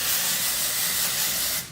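A short, steady hiss of a hairspray aerosol can release, close up, lasting under two seconds before cutting off.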